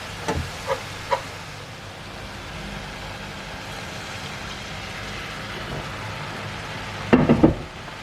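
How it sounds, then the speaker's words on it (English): Steady sizzling of leeks frying in butter in a pan, a continuous crackling hiss with a few clanks of utensils at the start and end. "Our leek frying nicely."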